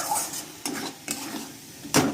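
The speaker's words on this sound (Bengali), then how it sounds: "এদিকে মাংসের মশলা কষাচ্ছি" Meat masala being stirred and fried in a pan, with scraping strokes of a utensil against the metal at a steady pace and a faint sizzle underneath, close and fairly quiet.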